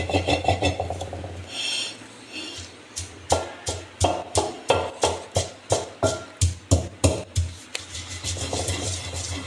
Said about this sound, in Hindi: इस तरह से रगड़ना है इसको, ताकि एक एक दाना अजवाइन का, बादाम, खसखस, ये सब कुछ जो है ये पिस जाए।